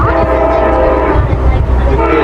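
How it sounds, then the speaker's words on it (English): A train rolls past at the Strasburg Railroad in Pennsylvania, its horn or whistle sounding as a loud steady tone over deep rumbling wheel and engine noise for the whole stretch, with a voice faintly in the mix. "Look, the train goes fast!"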